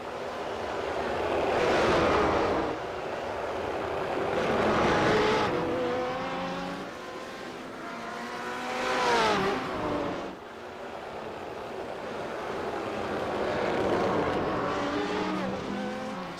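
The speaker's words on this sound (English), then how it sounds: "There's a bit of damage on the right front-hand side of Curtis Dexter's Aston Martin as well, so he's clipped the wall somewhere around the mountain" Race cars from a sports sedan race at Bathurst, Aston Martin among them, roar past in continuous loud waves of engine noise rising and falling as they pass, with no talk over them.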